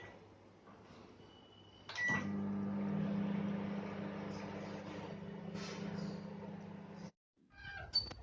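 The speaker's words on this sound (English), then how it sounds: "I'm going to microwave it for 30 seconds" A microwave oven warming hair oil hums steadily with a low, even drone for about five seconds, then cuts off abruptly, followed by a brief electronic beep.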